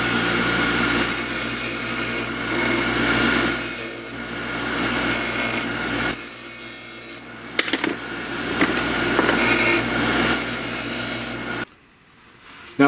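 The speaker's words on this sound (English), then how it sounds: "Now I need to clean up the ends on the grinder because they have a little burr" Bench grinder dressing burrs off the freshly cut metal ends, a steady loud grinding whine with rasping contact that dips briefly and runs on continuously before stopping abruptly near the end.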